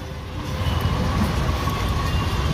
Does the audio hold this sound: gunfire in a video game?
no